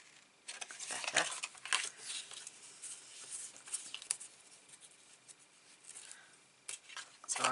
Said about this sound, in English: So they're going to cut up to the score line even, Gaynor.